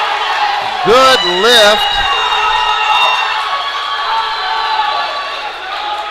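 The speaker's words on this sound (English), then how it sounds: "And the crowd goes wild." A crowd at the 2022 NAPF powerlifting regional championship cheers, whoops and shouts loudly and steadily after a 540-pound lift. A voice speaks briefly over the noise.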